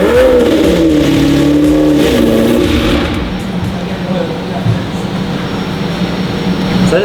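A freshly rebuilt manual Lamborghini Murcielago engine revs loudly with rising and falling pitch, then settles into a steady rough drone, close by.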